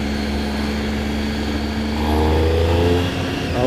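Triumph Street Triple 675 three-cylinder motorcycle engine revving up, a steady droning exhaust note that swells louder in the middle before easing back, close and alone.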